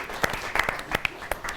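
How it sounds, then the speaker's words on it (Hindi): Sparse applause welcoming Atul Jwala onstage at a Holi festival programme, a few separate sharp claps scattered unevenly, close and thin, with a faint whistle-like tone between them. "जोरदार तालियों के साथ हम स्वागत करेंगे"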